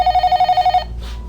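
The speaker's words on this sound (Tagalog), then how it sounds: "Tubagon ko pa ang telepono." A telephone in an office rings with a rapid electronic trill, about nine pulses in quick succession, loud and close, then it stops.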